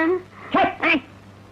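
A dog gives two short, sharp barks close by, with a faint whimper before them, during a tense argument between people.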